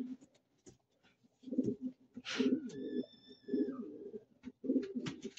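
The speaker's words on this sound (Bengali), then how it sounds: "এখানে নানান কবুতর রয়েছে।" Pigeons at a pigeon market in Kuwait, cooing in repeated low, throaty bursts close by, with a brief whistle-like call and small clicks in between.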